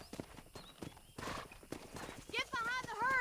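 In the Red Dead Redemption video game on PS5, horse hooves clip-clop in a steady, close rhythm, then a horse whinnies loudly with a wavering neigh near the end.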